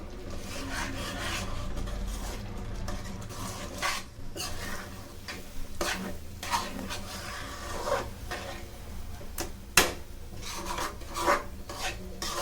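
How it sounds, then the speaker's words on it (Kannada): A spoon scrapes and stirs rice rava upma in a pan, rasping strokes in an uneven rhythm with occasional sharper knocks against the pan, close and alone without talk. "ಇದನ್ನು ಸ್ವಲ್ಪ ಚೆನ್ನಾಗಿ ಮಿಕ್ಸ್ ಮಾಡಿಕೊಂಡು"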